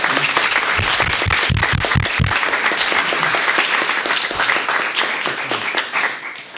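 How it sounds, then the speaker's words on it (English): Applause breaks out from the audience at a general meeting. A few loud, distinct claps come first, then dense clapping holds steady before thinning out toward the end. "Let's give her a clap."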